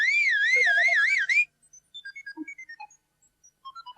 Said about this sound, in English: And he gave a loud whistle